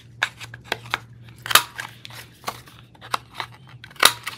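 Scissors cut paper for a layered belly band tag, giving a series of crisp, irregular snips up close over a low steady hum.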